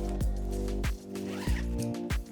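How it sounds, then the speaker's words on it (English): A zipper pulled closed along an Eagle Creek Pack-It Isolate structured packing folder, several quick separate zipping strokes, close and fairly loud, with no talking. "Zip it up"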